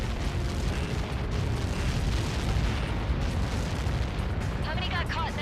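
A massive explosion in the Ace Combat 7 video game, likely from Helios projectiles, rolls on as a dense, steady roar of rumbling blast noise for several seconds, loud throughout, with a voice briefly audible near the end.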